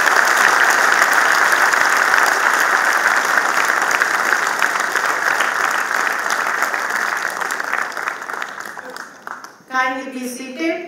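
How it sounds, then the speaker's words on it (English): A large convocation hall audience at DTU's 2019 ceremony claps for gold medal candidates, a long loud sustained burst that gradually thins, then a voice speaks over the fading claps near the end. "And I request the House to give them a big round of applause"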